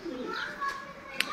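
Pigeons coo softly in a loft kept for flying birds, the low murmuring steady throughout with faint chirps and one sharp brief high sound near the end.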